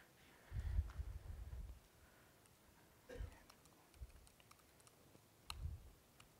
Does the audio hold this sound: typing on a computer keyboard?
yes